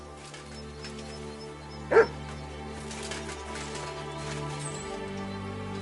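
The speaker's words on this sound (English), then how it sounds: "Barking." A single dog bark from the medieval role-playing game Kingdom Come Deliverance 2, one sharp nearby yelp rising over a steady low ambient hum and faint background sounds.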